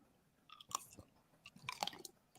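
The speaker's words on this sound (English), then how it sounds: "It's got a good crunch on it." A crunchy, very sour pickle bitten and chewed close to a microphone, giving a few sharp, wet crunches followed by quieter chewing in a quiet room.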